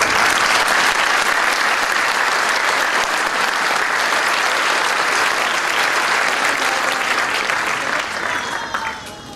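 Sustained applause from a school audience at a middle school prize day, dense and steady clapping filling the hall for several seconds before tapering off at the end.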